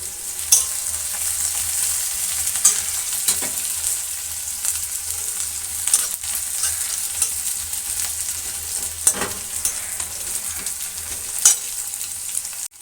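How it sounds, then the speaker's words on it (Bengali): Potato pieces and chopped onion with garlic fry in a pan, a steady close sizzle broken by repeated scraping stirs and occasional utensil knocks. "এর মধ্যে আমি আলুগুলো দিয়ে ভালো করে ভেজে নেব"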